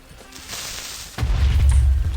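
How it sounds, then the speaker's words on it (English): Exploding throws in a Titan-build shooter game go off, first as a softer crackling burst, then as a heavy, booming low blast that rumbles on for about a second, with no voices. "these exploding throws can really just explode on me and I can just live it"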